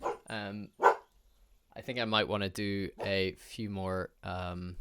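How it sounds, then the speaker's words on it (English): A dog barks a couple of times in short, sharp bursts near the start, followed by a person talking over a quiet background. "And sorry about the dog there."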